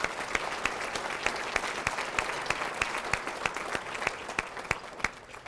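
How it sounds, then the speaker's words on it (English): Audience applause at a county chamber of commerce business address, steady moderate clapping from a crowd with distinct sharp claps standing out throughout. "Please give Amanda a big round of applause"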